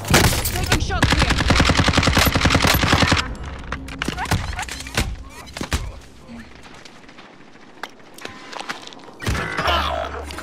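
Rapid automatic gunfire from the video game Call of Duty: Modern Warfare rattles loudly for about three seconds, then scattered single shots and impacts follow, with a final burst near the end.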